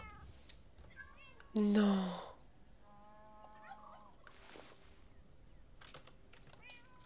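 Cats in a video game meow in short, high calls, with one louder, longer meow standing out amid quieter game sounds and clicking, while someone speaks briefly.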